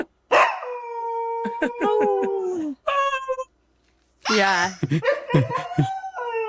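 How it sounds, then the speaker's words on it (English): Several dogs, among them a bloodhound, husky and Rhodesian ridgeback, join in a group howl with long rising wails, close by, with people laughing and chatting around and between the howls. "Group howl."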